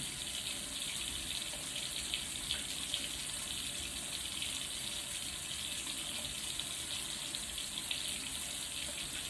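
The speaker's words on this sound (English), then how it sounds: "Just wetting the towel." Water running steadily from a tap onto a soft microfiber towel at a sink, a constant close hiss with no talking.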